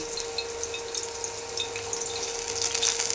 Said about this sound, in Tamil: இப்போ நம்ம இது கூட என்னென்னா ஜீரகம் கடுகு உளுந்து பருப்பு எல்லாமே ஒன்றா போட்டிருக்கேங்க